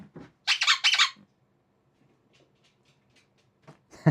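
A dog's squeaky rubber ball toy gives a quick cluster of bright, close squeaks, preceded by a small thump and followed by near silence with faint clicks.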